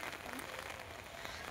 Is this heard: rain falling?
yes